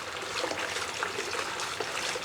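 Water trickles and splashes steadily from a DIY garden fountain whose flow is set by a ball valve, a bright continuous babble heard up close with no talking.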